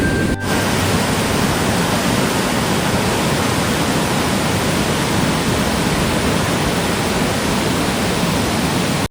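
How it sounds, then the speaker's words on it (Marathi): Waterfall at a farmhouse outing, a dense, steady roar of falling water that fills the whole span loudly and evenly, with no voices. "तर गाईज आपण आता आलोय धबधबा बघायला."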